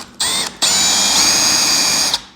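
Power drill boring a shallow hole into a piece of pine, a loud steady whine that starts briefly, pauses, then runs continuously for about two seconds close up.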